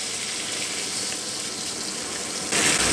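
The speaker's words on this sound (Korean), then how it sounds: "저는 아스파라거스를 구울게요. 민용이가 좋아하는 올리브유에 버터 그리고 로즈마리를 넣어주겠습니다" Asparagus frying in a pan of olive oil, butter and rosemary, a steady close hiss and sizzle that holds evenly for a few seconds and swells louder near the end.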